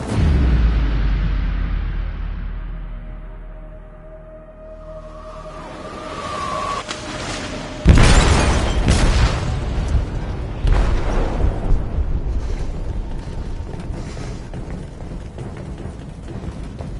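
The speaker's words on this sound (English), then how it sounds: "They detonated an explosive in the hold." A deep explosion goes off in a ship's hold in a PlayStation 4 game, a rumbling low boom building to a sudden loud blast, followed by heavy crashing, debris and continuing rumble.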